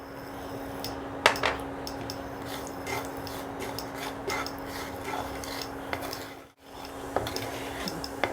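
Ajwain (carom seeds) sizzle in hot oil as tempering for a dahi palak kofta curry: a continuous close frying hiss with scattered crackles and pops, alone with no talk.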